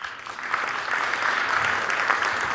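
Steady applause from a conference talk audience, a dense wash of clapping that holds at an even level throughout.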